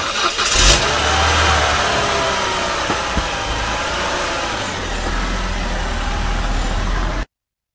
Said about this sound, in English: The car then jettisoned off.